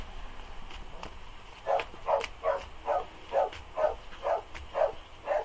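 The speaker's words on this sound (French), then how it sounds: "c'est mon chien qui aboie très très fort." A dog barks very loudly in a steady run of about nine evenly spaced barks, close and clear after a quieter stretch of background noise.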